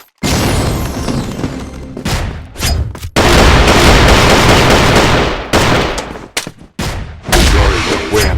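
A KAC ChainSAW machine gun fires in long, loud sustained bursts in the shooter game Crossfire, broken by brief pauses and punctuated by heavier booms.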